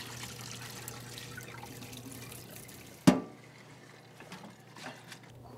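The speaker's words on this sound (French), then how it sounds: "on va égoutter le macaroni dans le passoire" Macaroni being drained into a colander brings a sudden loud splash of poured water, then trickling and dripping that fade, after a stretch of soft background noise.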